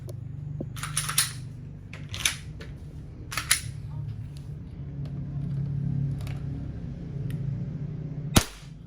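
A sand-colored WE Glock 17 Gen5 gas blowback airsoft pistol fires several sharp, snappy shots spaced a second or more apart, with a final loud crack, over a low steady background hum.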